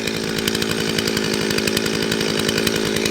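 A Dolmar or Stihl chainsaw runs steadily and loud, close by, a dense buzzing drone with a fast rhythmic chatter while cutting Australian hardwood on an off-grid homestead.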